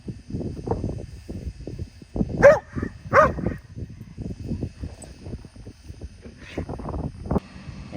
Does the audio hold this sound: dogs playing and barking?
yes